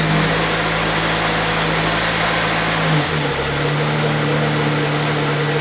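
A Pontiac Vibe engine idles steadily with a low, droning hum, then the pitch drops and roughens at about three seconds as the load shifts, settling into a shakier idle that suggests strong vibration; no one speaks.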